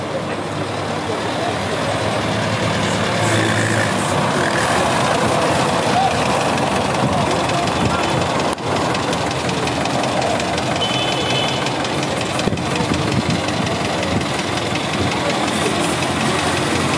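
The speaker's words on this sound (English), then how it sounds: "Vehicles belonging to the Lagos State Task Force has arrived at the toll gate." Vehicles of the Lagos State Task Force arriving at a toll gate, a continuous loud engine rumble of heavy traffic that holds steady throughout, with a couple of brief sharp knocks along the way.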